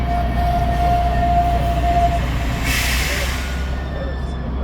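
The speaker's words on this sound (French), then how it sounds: "Les deux tramways du Saint-Wagon qui sont là" Two Alstom trams passing each other, a low continuous rolling rumble with a brief whine and a hissing burst in the middle, heard nearby with faint voices of onlookers.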